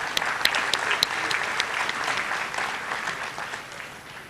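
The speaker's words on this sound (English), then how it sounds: "Let us give a very warm round of applause to all the graduates today." An audience at a university convocation claps for the graduates, opening with several sharp individual claps before settling into dense, even applause that slowly fades toward the end.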